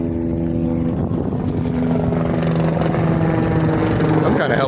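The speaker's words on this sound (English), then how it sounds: "Some kind of helicopter." Helicopter passing over a city street, a loud, steady rotor drone with a pulsing low throb that swells toward the end, heard outdoors with some background street noise.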